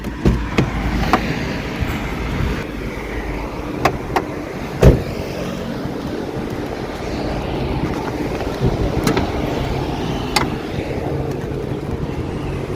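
A car engine runs steadily nearby under gusty wind buffeting, with a few sharp clicks and knocks scattered throughout.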